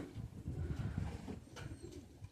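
Soft, rounded pigeon coos at a loft in autumn repeat steadily in a low register, close by, with faint rustling and a few brighter chirps over them.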